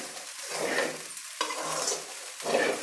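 Tomato bath rice with mint gets scraped and stirred in a pan as it is served: scooping strokes with a light sizzle underneath, three bursts in a row, close and fairly quiet.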